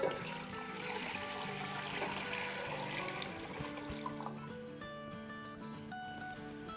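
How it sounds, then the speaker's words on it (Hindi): Full fat milk poured into a deep pan holding a little water, a steady close liquid stream and trickle with faint clinks throughout, no voices. "अब इसमें हम फुल फैट दूध डाल देंगे जो कि है 2 लीटर यानी 8 कप"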